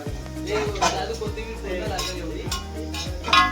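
Onion frying and being stirred in a pan, a steady sizzle under repeated scraping strokes of a spatula at a regular rhythm, close and fairly loud.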